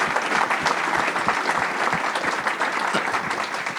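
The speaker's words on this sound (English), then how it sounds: "Please help me giving them a round of applause." An audience at a water-management panel event claps in sustained, dense applause, loud and continuous, with no talking over it.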